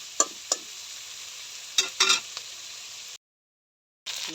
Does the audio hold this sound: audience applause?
no